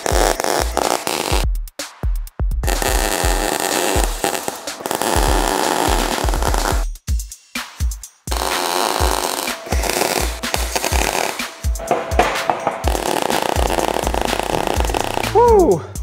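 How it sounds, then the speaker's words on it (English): Stick welding joins metal plates with budget TEMU and R-Tec welders, loud crackling bursts broken by short pauses as each weld starts and stops, with a brief tonal sweep near the end. "I'm going to use both the TEMU and the R-Tec welder and stick some of these plates together"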